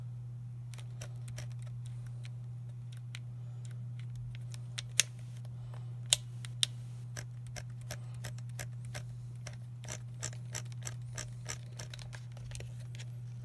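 A small camera module being twisted counterclockwise onto its mount gives a series of faint plastic ticks and a few sharper clicks, heard close over a steady low electrical hum.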